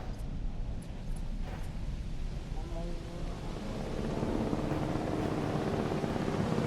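Helicopter from a Jurassic World park-management video game, a steady broadband rotor and engine drone that grows slightly louder toward the end, heard alone without talk.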